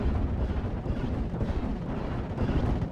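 Bombs dropped by an aircraft on a World War II battlefield in a strategy game: a steady, heavy low rumble of explosions and artillery-like blasts rolling on without pause at moderate, fairly distant loudness.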